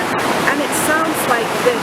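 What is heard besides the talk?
rushing waterfall at Tel Dan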